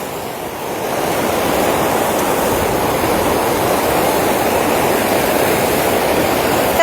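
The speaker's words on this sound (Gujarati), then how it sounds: "દરિયાની જેમ પાણીમાં મોજા આવી રહ્યા છે" Floodwater waves crash over a causeway in Surat, swelling into a loud, continuous roar that holds steady with no talk.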